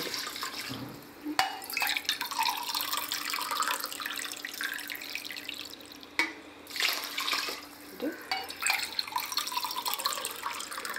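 Water pours steadily into an electric rice cooker pot for chicken biryani, a continuous close splashing stream with a few brief breaks and changes in flow, no voices.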